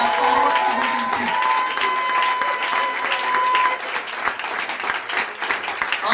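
A church congregation applauds and cheers in praise of the Lord Jesus Christ, a loud, sustained wash of clapping from a crowd that eases off slightly toward the end, with a faint tone ringing underneath early on.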